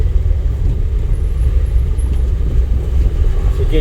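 A car engine hums and rumbles steadily during a driving lesson, loud and close, with a constant low drone and no talking.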